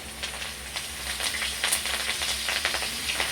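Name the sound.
curry leaves added to hot oil, sizzling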